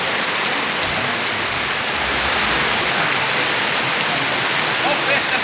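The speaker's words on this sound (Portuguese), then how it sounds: "A chuva caindo." Heavy rain pours down in a dense, continuous roar across a market street in Pernambuco, Brazil, with water running along the ground, loud and unbroken throughout.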